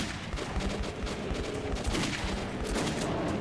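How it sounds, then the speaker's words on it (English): Rapid gunfire from the Metro 2033 video game, a dense run of repeated shots filling the whole stretch at fairly steady loudness with no talk over it. "Alex, if you want to shoot at something, that would be fantastic"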